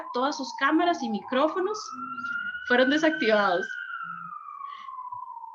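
Ambulance sirens passing outside a home during a webinar, one steady wailing tone sliding slowly downward as it moves away, heard faintly behind and after someone speaking Spanish.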